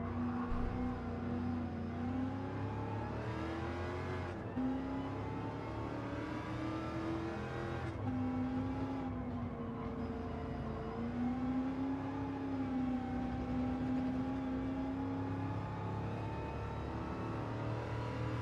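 A Daytona Cobra Coupe race car's engine in Gran Turismo 7 hums at a steady, fairly quiet pitch, rising and falling smoothly through gear changes as it laps, with no voices over it.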